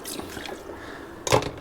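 Hot water splashes and trickles while dishes are rinsed outdoors during car camping, with a short dribble at first and a brief louder splash near the end.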